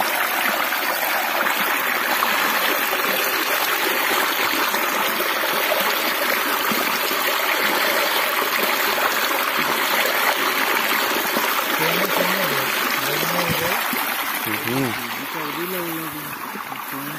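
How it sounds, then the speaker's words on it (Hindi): Steady rushing water gushes continuously at close range from a farm irrigation water pump outlet, a broad loud flow, with faint voices appearing near the end. "वाटर पंप चालू है"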